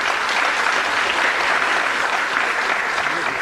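Steady, loud applause from an audience at a felicitation ceremony held by the Delhi Tamil Sangam, dense clapping sustained evenly throughout with no gaps.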